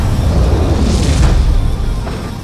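Cinematic explosion as a presidential limousine with bulletproof glass drives through a fire blast in an action film, a loud sustained low rumble with a roaring burst that holds steady for over two seconds.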